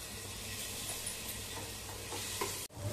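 Cashew pieces and chopped tomato stir-fried in a pan, giving a steady close sizzle with scraping stirs throughout, cut by a brief break near the end.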